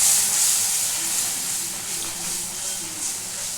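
Steady, close sizzling hiss of spice masala being fried in a pan for a Bengali doi potol, gently rising and falling with no voices.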